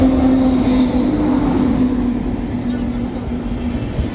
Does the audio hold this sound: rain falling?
no